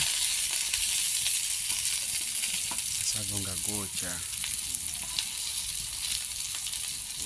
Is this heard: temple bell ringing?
no